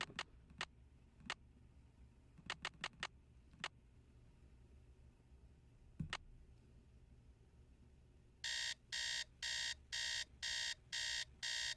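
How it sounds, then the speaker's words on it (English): An alarm clock set for 3 a.m. in a Nancy Drew video game, heard first as a scatter of faint separate ticks or clicks, then ringing in a loud repeated pulsing beep of six or seven bursts, with no voices. "let's set up the alarm to 3 a.m."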